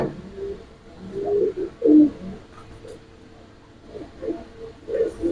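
Giribaz high flyer pigeons cooing close by, several soft throaty coos in uneven bursts separated by quieter gaps.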